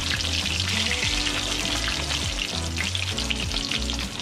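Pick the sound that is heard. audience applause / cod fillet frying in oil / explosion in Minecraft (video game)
cod fillet frying in oil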